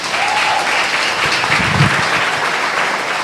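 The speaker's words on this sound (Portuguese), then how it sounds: "Aplauda o Senhor Jesus." A church congregation claps together during a Portuguese-language evangelical service, a steady wash of many hands at moderate loudness throughout, with a brief low voice rising in the middle.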